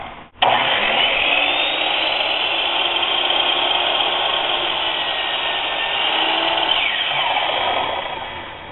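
A power saw trims a thin sliver off the end of a 2x4 board, whining loud and steady at close range after a sharp start, then winding down at the end.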